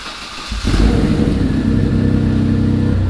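The engine of a Mitsubishi 3000GT VR4 on a dyno cranks briefly, then catches and settles into a loud, steady, rumbling idle, heard close with no talking.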